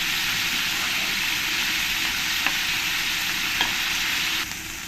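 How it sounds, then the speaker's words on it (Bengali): Prawns frying in a pan for a malai curry give a steady, dense sizzle that runs without a break, with a couple of faint clicks and no voices. "চিংড়িগুলোকে আমি উল্টে পাল্টে ভালো করে ভেজে নেব"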